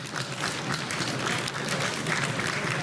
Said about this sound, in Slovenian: en aplavz za vijoličaste